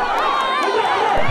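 A crowd cheers and chatters loudly and steadily at a Jallikattu bull-taming event inside the video game GTA 5, with a dense wash of voices filling the whole moment.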